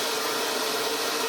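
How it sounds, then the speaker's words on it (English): A restored Hoover Junior 375 upright vacuum cleaner, fitted with new bearings and a modified bag, runs with a steady, loud, airy motor roar that holds constant throughout. "we can have our Hoover Junior 375 running in theory, mechanically"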